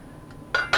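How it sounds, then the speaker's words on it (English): A metal lid set back onto a pot of ratatouille, two quick bright clinks in close succession after a short quiet pause, close and clear. "Place the lid back and return to the oven"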